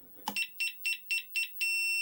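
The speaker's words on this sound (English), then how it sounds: "once it makes that long beep, you're all the way" A rapid run of short, evenly spaced electronic beeps from an FCX24M RC car transmitter, then one sustained, steady beep at the end, loud and close.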